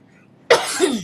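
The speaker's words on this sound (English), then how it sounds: "She got me coughing." A woman gives a single sharp cough, close and fairly loud, after a moment of near silence, followed by a short raspy exhale.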